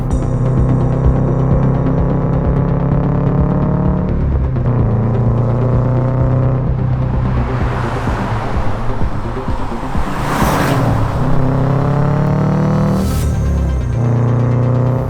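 A Subaru Prodrive car climbs Franschhoek Pass, its engine droning loudly and steadily with a throbbing, rising and falling pitch as it works through gear changes and corners, wind and road rumble close around it.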